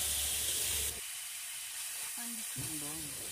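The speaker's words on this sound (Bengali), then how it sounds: "এবারে জল দিয়ে দিলাম।" Water poured into a hot pan of chili powder, turmeric and black coriander sets off a loud burst of sizzling that drops after a second to a softer steady hiss, with a voice speaking briefly near the end.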